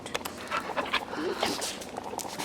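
A dog visiting the home pants nearby with soft whimpers, while a person talks over it now and then in a quiet indoor setting.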